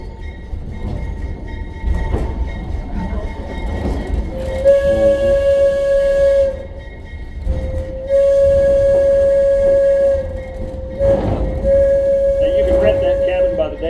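A train whistle on the Eureka Springs & North Arkansas Railway at Wilson's Crossing sounds three long blasts with short breaks, loud over the rumble of rolling rail cars and some background voices.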